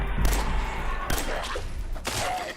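Gunfire in the video game Fallout 4 aimed at an enemy's legs: three punchy shots about a second apart over a low background of game sound.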